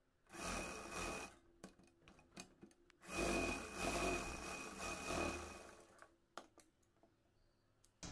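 Sewing machine stitching elastic on a garment waistband, running in two loud whirring bursts separated by pauses, with lighter handling sounds between and afterward, close and with no talk.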